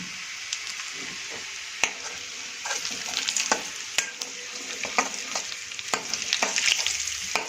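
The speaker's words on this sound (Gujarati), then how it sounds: "ત્યારબાદ મીઠો લીમડો એડ કરી દઈશું" Curry leaves and asafoetida sizzle and crackle steadily in oil in a pan, with sharp pops and spatters and a few scraping stirs.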